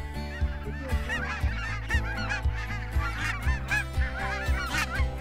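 A flock of geese honking steadily and loudly during a goose hunt, many overlapping calls, with a regular low thumping pulse running underneath.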